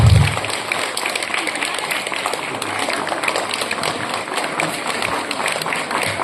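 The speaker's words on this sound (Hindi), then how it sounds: "तालियां बजा दो इनके लिए" A school audience at a Gandhi Jayanti prize distribution claps for a second-place student, with a continuous, even wash of many hands clapping that fills the space from start to finish.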